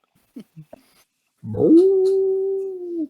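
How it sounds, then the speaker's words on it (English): A single loud, sustained howl rises after a few brief soft sounds and holds steady for about a second and a half, close and clear, with no talk over it. "there's apparently an incredibly loud howl in your head, Maev."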